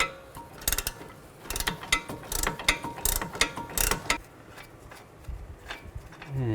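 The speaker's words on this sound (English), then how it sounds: "Take an 18mm wrench and you can loosen up the nut." Ratchet wrench loosening a nut on a strut stud of a 2007-16 GMC Acadia, with close, loud bursts of rapid clicking pawl ratcheting in uneven strokes.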